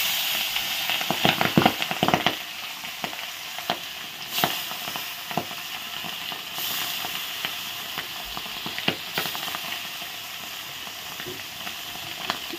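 Pabda fish frying in hot oil, a steady bright sizzle with sharp crackles and pops scattered throughout, close and lively with no talking.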